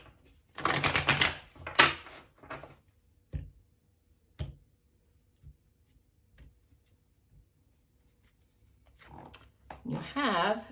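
Quick bursts of tarot cards being riffled and shuffled, loud flurries at the start, then scattered soft taps with a voice speaking near the end.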